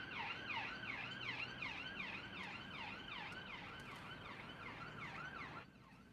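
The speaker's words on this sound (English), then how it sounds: "And there goes an ambulance." An ambulance siren wails in a rapid rising-and-falling cycle, loud and close as it passes, then cuts off and fades near the end, leaving faint traffic rumble.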